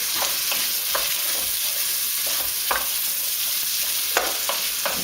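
Garlic and onion fry in a pot for one-pot couscous, giving a constant, close hiss with intermittent spoon scrapes and stirring knocks.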